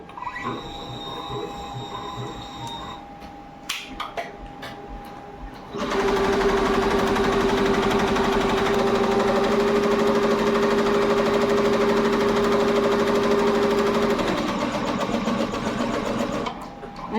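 A computer embroidery machine stitches a design onto net fabric. A quieter mechanical hum and a few clicks come first, then a loud, steady, rapid stitching chatter with a strong tonal whine that runs for about eleven seconds.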